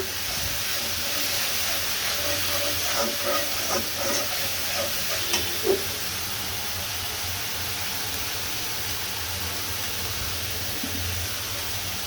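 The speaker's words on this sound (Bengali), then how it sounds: "এখানে হচ্ছে দিচ্ছি তেজপাতা" Bay leaves dropped into hot oil give a steady, soft hissing sizzle, with a few brief crackling pops early on, then settle into an even, continuous frying hiss.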